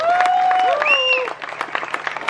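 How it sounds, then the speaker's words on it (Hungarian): Concert audience applauding with some cheering at an outdoor band show, steady clapping under a voice and a sustained tone that fades out midway, leaving scattered claps. "Egy nagy tapsot neki is."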